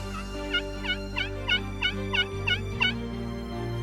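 A wild turkey gobbles repeatedly at the edge of farmland and forest in a rapid series of about eight sharp, rattling calls, moderately distant over a steady low background hum.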